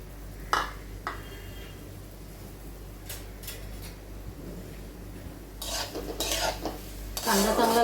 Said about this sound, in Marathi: आता आपण त्याच्यात कांदा घालणार आहोत तेलामध्ये.